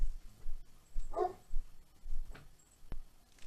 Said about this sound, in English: just try to muffle the barking by closing that door